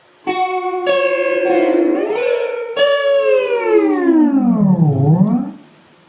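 An electric guitar through a DigiTech MultiPlay multi-effect pedal on a repeat setting swoops and bends, with sliding pitch, a siren-like dip and shimmering warbly effects, loud and close before fading out.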